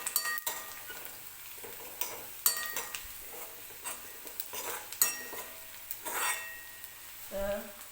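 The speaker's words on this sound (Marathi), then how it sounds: "तर आता तेलामध्ये मी थोडीशी हळद टाकते आणि मिक्स करून घेते." Turmeric stirred into hot oil in a pan, a spoon scraping and clinking against the metal with soft sizzling underneath, irregular stirring strokes close by, no talking.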